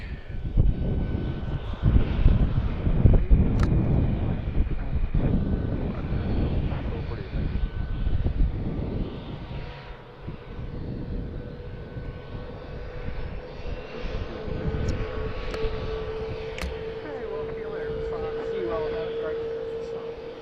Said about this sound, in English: Delta 717 pushing back, or pushed back, and the Learjet starting out.